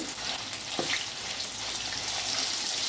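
A spoonful of ginger garlic paste sizzles in hot oil for a mutton pickle, with a steady bright crackle and one brief clink of a spoon.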